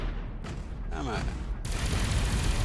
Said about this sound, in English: Hey, shooting at my ship.